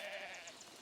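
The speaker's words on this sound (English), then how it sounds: "Look at that, our cute little sheep." A sheep in the Foundation video game lets out a single faint, wavering bleat, soft and short, with no talk over it.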